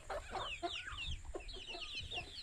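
A rooster bought for a picnic clucks repeatedly at close range in short, rapid, agitated bursts, loud and continuous over a faint background hum.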